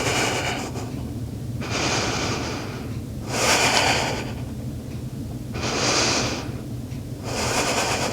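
Deep, slow breaths drawn in and let out during a yoga pose, four long airy swells in a steady rhythm, close and fairly loud, with no talking.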